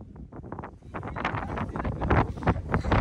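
Strong monsoon wind buffets the microphone at Rani Jhari viewpoint in Chikkamagaluru, a loud, gusty roar that swells and surges in repeated bursts throughout, with no speech.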